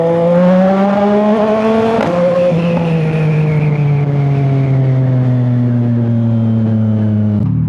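An inline-three engine on a 675 NK motorcycle revs loudly and close, climbing to a sharp peak and then holding a steady high drone as the pitch slowly falls.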